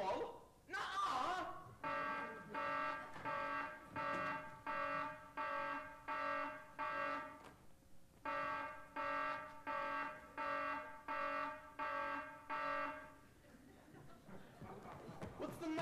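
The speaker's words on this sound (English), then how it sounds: "Didn't they hear the alarm?" An electronic fire alarm rings in two long runs of evenly pulsed, buzzing tones during a high school stage performance, with brief voices and laughter at the start and end.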